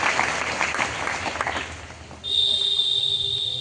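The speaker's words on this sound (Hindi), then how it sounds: "वाह वाह वाह वाह, तालियां तालियां।" Students in a school hall in Gonda district, Uttar Pradesh, clap to welcome a guest speaker, a scattered round of applause that fades under a steady high whistle-like tone.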